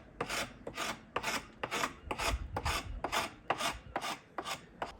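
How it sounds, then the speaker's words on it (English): Chisel edge scraping tar off old parquet flooring blocks, a close, steady series of about ten rasping strokes in an even back-and-forth rhythm. "I'm just using the end of the chisel to scrape the excess tar off"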